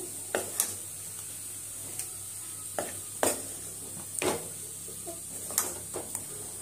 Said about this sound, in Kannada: ಈ ಥರ ಎಲ್ಲ ನೀಟಾಗಿ ಮಿಕ್ಸ್ ಮಾಡ್ಕೋಬೇಕು